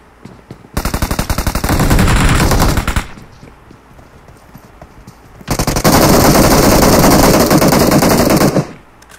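Rapid automatic gunfire in the BGMI battle royale game, two loud sustained bursts of about two and three seconds separated by a quieter pause with faint background game sound.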